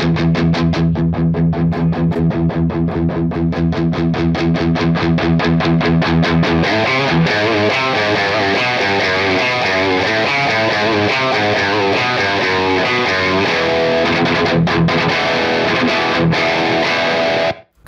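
Electric guitar through an overdrive pedal played loud and alone, opening with fast repeated picked notes, then moving into sustained distorted chords and riffs.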